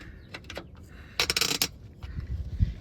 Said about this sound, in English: you got this cover that we're going to take off. You got 4 10mm bolts.